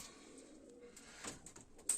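Broad-tailed tumbler pigeons coo faintly in a loft, soft low murmuring calls with a few brief sharper sounds toward the end, quiet and close.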